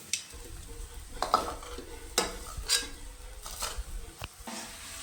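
Cooked rice for chicken fried rice being stir-fried in a hot pan: a steady sizzle broken by repeated scraping and clinking strokes of a utensil against the metal, close and fairly loud, with no voices.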